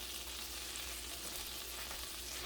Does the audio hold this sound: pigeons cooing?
no